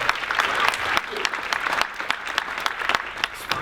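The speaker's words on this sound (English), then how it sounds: "Spontaneous applause from the students," Students in an upper school audience applaud at a winter band concert, a dense burst of clapping with sharp individual claps standing out, loud and close, carrying steadily through the whole stretch with no talking over it.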